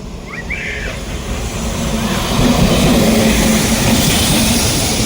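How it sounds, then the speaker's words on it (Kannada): The Marusagar Express bound for Nizamuddin rolls into a station, a loud, steady rumble of wheels and carriages that swells gradually, with a brief squeal early on. "ನಿಜಾಮುದ್ದೀನ್ ಹೋಗುವಂತಹ ಮರುಸಾಗರ್ ಎಕ್ಸ್ಪ್ರೆಸ್ ಅರೈವಲ್ ಆಗ್ತಾಯಿತ್ತು"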